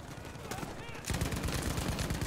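Battlefield V combat with rapid gunfire, a shotgun blast and a grenade, crackling shots that jump into a louder, denser burst of fire about a second in and keep rattling close by.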